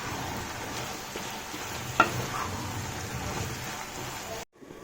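Pumpkin pieces cooking in ghee give a steady, moderate sizzle with faint crackles, one brief clink near the middle, then it cuts to silence at the end.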